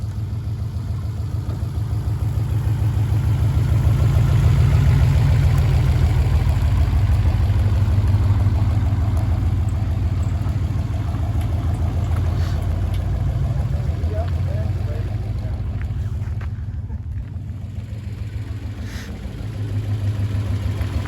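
A 1932 Chevy hot rod built in the 1960s drives along with a low, rumbling engine drone that swells and eases as gears are shifted. Wind and road noise run steadily beneath it.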